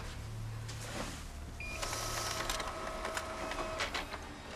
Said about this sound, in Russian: Тестовую страницу распечатайте